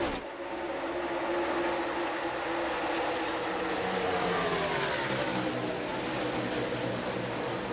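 Stock cars in the NASCAR Cup Series Brickyard 400 roar past in a dense, continuous engine drone that swells and shifts pitch as the pack accelerates down the straight, loud and steady throughout with no pauses.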